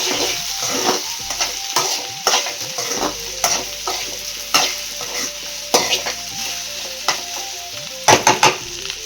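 Okra frying in a pan with urad dal and peanuts, steady sizzle under repeated scraping stirs of a spatula, close and fairly loud, with sharper clattering strokes toward the end.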